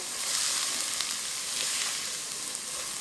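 Chopped carrots, onion and red pepper sizzle in olive oil in a pan, a steady close crackling hiss with no talk.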